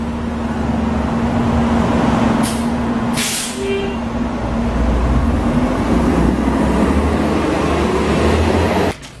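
An XN40 city bus stands at a stop in Baldwin, its engine idling loud and close, with two sharp hissing air-brake releases and a steady drone under the hiss.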